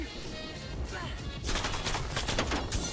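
Automatic sentry gun fire in the Call of Duty Cold War video game, a dense burst of rapid gunshots that starts partway through and keeps rattling under game ambience.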